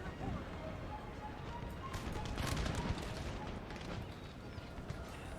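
Battlefield musket fire in Empire: Total War, a dense crackle of many distant shots rolling together over several seconds against a busy background rumble, with murmured speech faintly underneath.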